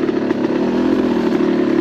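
A 2021 Yamaha YZ250X dirt bike engine runs steadily up close, a loud continuous buzzing drone with small rhythmic fluctuations and no talk over it.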